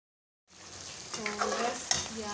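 Chicken and spinach sizzle in a pan while being stirred, a soft, steady frying hiss with scraping and a small clink of the utensil, beginning after a brief silence.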